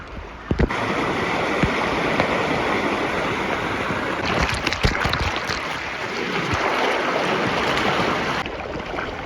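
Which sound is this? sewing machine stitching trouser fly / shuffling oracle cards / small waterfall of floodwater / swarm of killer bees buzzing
small waterfall of floodwater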